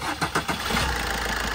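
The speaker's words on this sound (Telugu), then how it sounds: "ఇప్పుడైతే మీకు ఒకసారి ఇంజన్ స్టార్ట్ చేసి చూపిస్తాను" A 2020 Maruti Swift VDi diesel car starts on a single crank, a short churning crank giving way to a steady low diesel idle, loud and close with no talk.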